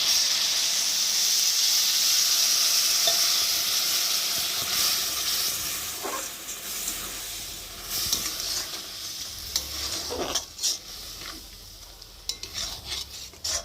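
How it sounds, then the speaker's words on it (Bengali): Milk poured into a coconut mixture cooking in a pan for narkel naru, a loud hissing sizzle that settles into softer bubbling with spatula stirring and scraping, close by. "দুধটা দিলাম, দিয়ে একটু নারকেলের সাথে ভালো করে মিশিয়ে নেব।"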